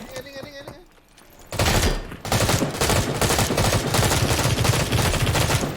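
Rapid bursts of gunfire in the battle royale game Super People, loud and near, repeated shots rolling almost continuously through the back half with speech mixed in.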